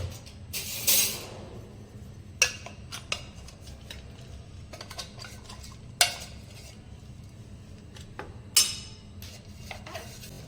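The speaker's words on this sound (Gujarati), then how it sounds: "આ બધી વસ્તુને આપણે એક ડીશમાં કાઢી અને સારી રીતે મિક્સ કરી લેવાની છે" Spoons clink against a dish as gram flour and stuffing spices for bhindi are mixed, a few sharp scrapes and taps spaced seconds apart over a faint low room hum.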